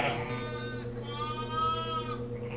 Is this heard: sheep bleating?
yes